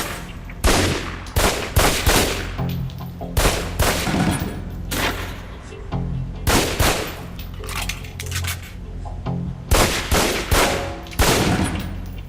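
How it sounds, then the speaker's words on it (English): Pistol shots crack at a firing-range target in the video game Alpha Protocol, loud and sharp, coming in quick clusters of several rounds separated by brief pauses. "Equip the pistol, then aim down range and take some shots at the target"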